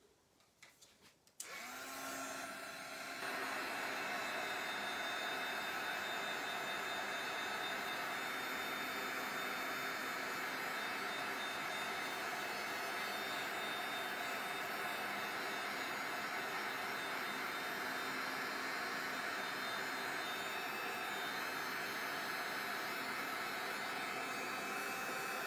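A heat tool drying paint on a mixed media plaque switches on after a moment and blows with a steady, loud whirring hiss that runs unbroken to the end.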